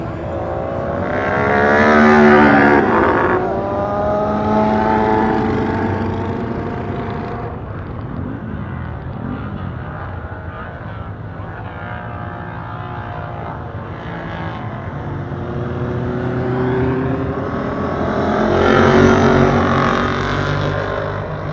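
A café racer motorcycle engine runs nearby, its note climbing into strong revs at the start and again near the end, with a steadier running drone in between.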